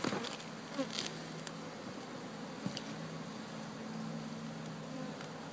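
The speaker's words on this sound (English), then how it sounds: "So here we got more bees." Bees buzz steadily and close by during a live bee removal in Venice, California, a continuous drone with individual bees passing near.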